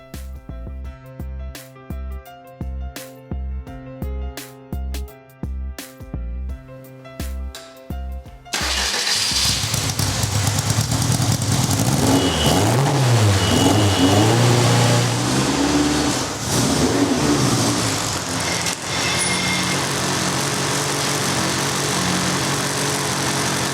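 A Van Diemen RF85 race car engine, its carburetor needing work, cranks in a rapid series of starter pulses, then catches and runs loud and close, revving up and down in rising and falling sweeps before holding a rough, steady note.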